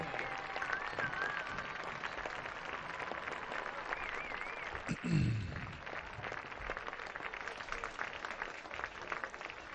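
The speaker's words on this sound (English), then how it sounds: "give a round of applause for our Liberty High School 2024 Kid Captain, Cooper Estison." Crowd applause rises from the stands at a Liberty High School football game against Prairie in Iowa, a steady, distant wash of clapping and cheering across a large outdoor crowd, with a brief thump partway through.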